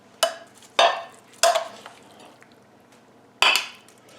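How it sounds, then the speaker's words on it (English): Spaghetti squash casserole with ground turkey, onions and peppers being served into a bowl, with four sharp, clear clinks of a utensil against dishware at uneven intervals and quiet pauses between them. "So we're just going to serve it in a bowl."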